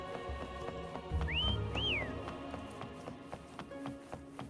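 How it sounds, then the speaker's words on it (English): Two rising-and-falling whistle calls in the game Wuthering Waves, the first short and the second longer, heard over soft music and light tapping footsteps. "Try whistling."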